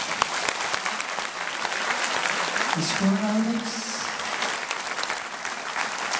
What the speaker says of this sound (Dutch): geef ze een applaus.